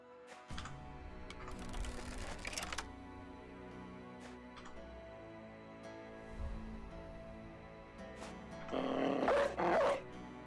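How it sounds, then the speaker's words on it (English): Dogs unleashed in the video game Battle Brothers attack, with sporadic barks and yelps over a background of clicking game effects and a tonal music bed, building to a louder flurry near the end. "House, release the dogs."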